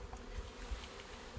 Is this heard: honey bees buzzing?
yes